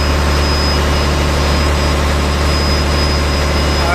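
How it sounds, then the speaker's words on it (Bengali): Two engines of a Barisal-route river passenger launch running in the engine room: a heavy, constant roar with a thin high whine, loud and close, steady throughout. "দুপাশে দুটি ইঞ্জিন।"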